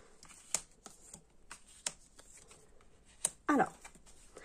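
Petit Lenormand fortune-telling cards drawn and handled on a table: soft scattered taps and flicks, then a louder rustling shuffle near the end, with no talking.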